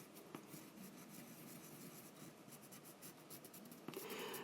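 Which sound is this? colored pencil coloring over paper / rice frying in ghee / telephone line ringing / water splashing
colored pencil coloring over paper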